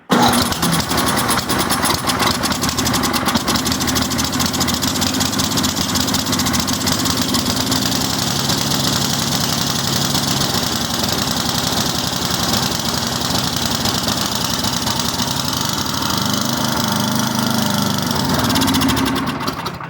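A snow blower's small gasoline engine runs loud and close, a steady rough chugging drone that holds for about twenty seconds before cutting out at the very end.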